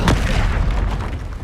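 In the Hogwarts Legacy video game, an exploding spell goes off as a heavy, deep boom that rumbles and fades over about a second and a half, with no talk.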